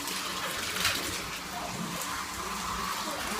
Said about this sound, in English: I go put some warm water in the tub